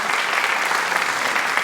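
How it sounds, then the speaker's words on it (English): An audience at a pre-show talk in a festival theatre breaks into applause, a thick, even patter of many hands clapping at close range with no voices over it. "I think that deserves a round of applause"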